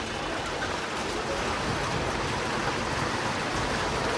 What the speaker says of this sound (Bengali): এই দেখেন সব ছিটা ফোঁটা বৃষ্টি।